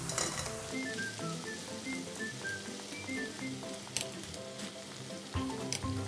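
Oil crackles and sizzles steadily as meat for guobaorou is deep fried a second time, with occasional sharper pops and light clinks, no one speaking.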